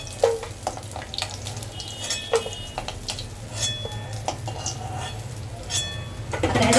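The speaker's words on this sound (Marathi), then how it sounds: "बघा कांदा पण पटकन भाजतो. जर गरम गरम तेल असेल ना त्याला कांदा भाजतो." Chopped onion frying in hot oil in a village-style mutton recipe, a quiet steady sizzle with scattered light clinks and ticks of stirring, heard alone without talking.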